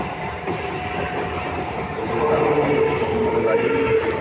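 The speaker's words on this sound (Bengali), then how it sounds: "ট্রেনটা ছেড়ে দিয়েছে" A departing train rumbles steadily nearby, with a continuous rolling roar of wheels on rails and faint clatter that grows slightly louder as it moves off.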